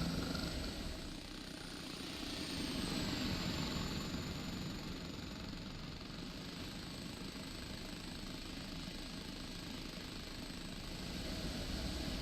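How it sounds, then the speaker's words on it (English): An OH-58D Kiowa Warrior scout helicopter in the DCS flight simulator drones steadily, its engine and rotor forming a constant broadband whine and hum that stays even throughout with no voices. "pretty much they are just scout helicopters, just the Warrior"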